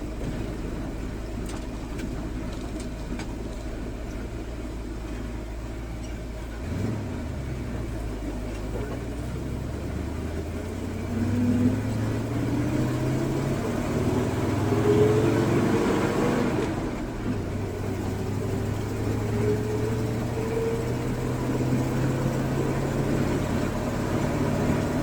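A car drives along the road with steady engine drone and road noise from inside, the engine pitch rising and falling through gear changes as it accelerates, continuous and moderately loud.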